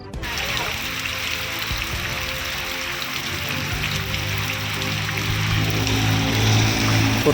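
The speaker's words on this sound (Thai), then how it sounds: "ฝนตกหนัก" Heavy rain pours steadily in Xepon, Savannakhet province, Laos, during flash flooding, a dense continuous hiss of drops on surfaces with a low hum rising beneath it.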